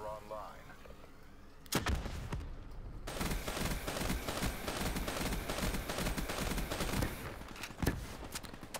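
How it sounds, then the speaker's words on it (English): Gunfire from the KN-44 assault rifle in the Call of Duty Black Ops 3 video game, with sustained rapid bursts and sharp reports that carry on for several seconds amid other battlefield noise. "I like that gun, the KN-44."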